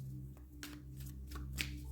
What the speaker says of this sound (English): Those two cards just flipped over while I was shuffling in the deck, right in my hand.